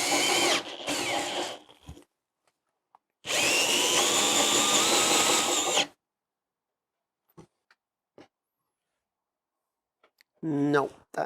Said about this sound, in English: whether I can then control the drill and cut a decent hole in the board with just the rest of the cutter